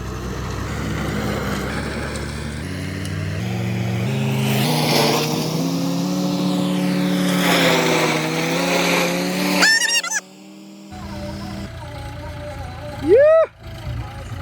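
A tractor pulls onto a farm with a loud, droning engine whose pitch rises and shifts, followed by a few sharp honking tones, while people talk over it.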